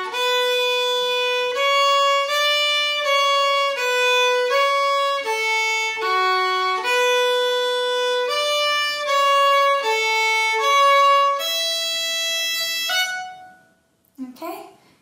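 Solo fiddle plays two melodic phrases of the Manx tune Ta Cashen Ersooyl, a steady run of clear bowed notes that ends on a held note, followed by a brief faint noise.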